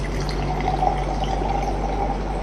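Liquor is poured into a glass in a steady, close, gurgling stream lasting a couple of seconds over a low background hum.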